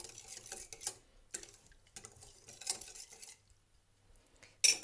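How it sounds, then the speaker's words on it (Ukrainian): A spoon clinks and scrapes against a bowl while dissolving yeast for paska bread dough, in several short bursts of stirring, quiet and close, separated by brief pauses. "Перемішуємо до повного розчинення дріжджів."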